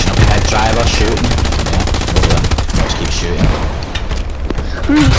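Rapid machine-gun fire and scattered shots from the World War II shooter Hell Let Loose crackle loudly and almost without pause, with booms mixed into the battle noise and a player's voice heard over the gunfire.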